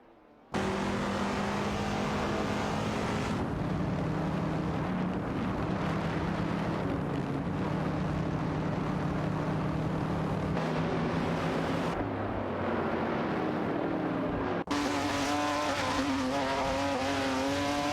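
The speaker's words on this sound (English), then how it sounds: "Racing car dashing away." Race cars speeding along a circuit in an AI-driven race, their engines forming a loud, continuous drone with shifting pitch as cars pass, steady throughout with no talk.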